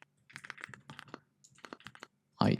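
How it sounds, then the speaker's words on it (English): Rapid bursts of keystrokes on a computer keyboard come close and clear, clustered clicks with brief pauses between groups and a louder clattering flurry at the end. "Let me type this out correctly."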